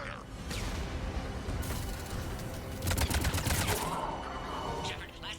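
Dense game gunfire from Mass Effect as squads converge on the next level, bursts of shots rising to a louder, busier stretch near the middle over a constant rumbling battle bed, with radio-style voices faintly under it.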